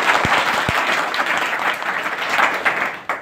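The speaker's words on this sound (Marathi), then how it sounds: "तर साहेबासाठी एकदा जोरदार टाळ्या होत" An audience breaks into loud, dense applause for an official at a farmers' silk-farming meeting, with a few sharp claps standing out at the start and the clapping holding steady throughout.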